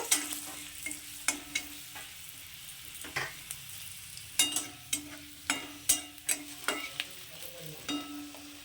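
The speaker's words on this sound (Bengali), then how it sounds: "তো রসুনটাকে একটু লাল লাল করে ভেজে নেব" Chopped garlic and cumin seeds sizzle in hot oil, a quiet steady frying hiss broken by a regular series of sharp scraping clicks from stirring, with no talk.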